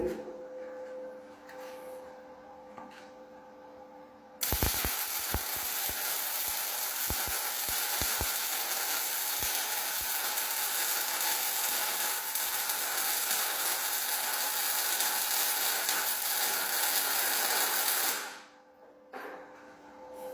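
An Edon budget welding machine welding metal, heard as a loud steady crackling, sizzling hiss with a few sharp pops at the start, lasting about fourteen seconds before cutting off to quiet background.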